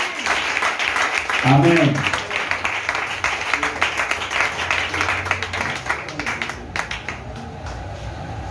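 A church congregation at a French-language worship service claps and cheers in loud, steady applause that swells early and then carries on. A preacher's voice speaks over and around it.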